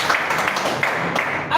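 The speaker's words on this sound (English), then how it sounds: "Okay, clap again." A short burst of audience clapping and applause, brisk and dense, with a voice briefly audible over it.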